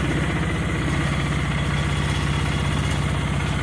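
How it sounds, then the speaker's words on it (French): A cold leaf blower engine idles with the choke on, a steady, close, buzzing two-stroke rumble with a fast even pulse that holds unchanged throughout, with no voices. "Donc on laisse le choke pour qu'il réchauffe un peu le cylindre, que les gaz soient plus faciles à brûler."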